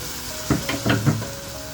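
Chopped tomatoes go into a hot frying pan with green chili and ginger, drawing a steady sizzle punctuated by a few close stirring scrapes.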